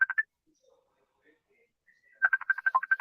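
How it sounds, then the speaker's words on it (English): A Messenger call ringing on a computer: a repeating electronic ring tone in short pulsed bursts, a brief burst at the start, then a quiet gap before a longer rapid run of ringing pulses, clear and alone. "Yeah, somebody's calling you on Messenger."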